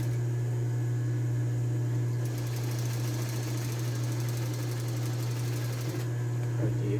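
A sewing machine stitches a seam on a women's blouse. It runs with a continuous close mechanical hum and a fast rattling rhythm that surges for a few seconds in the middle, then settles back.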